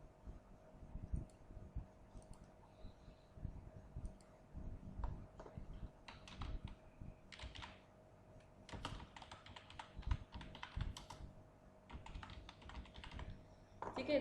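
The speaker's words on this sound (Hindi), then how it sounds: "या इसमें मैं कुछ डेटा भी एंटर करके दिखा देती हूँ" Data being typed on a computer keyboard in MS Word 2007, a quiet, steady stream of close key clicks in irregular bursts, with a soft background hum and no talking.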